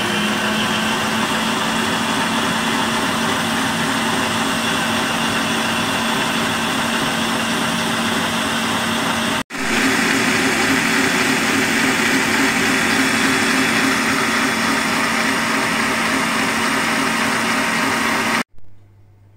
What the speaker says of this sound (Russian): Крем я сбивала 6 минут ровно.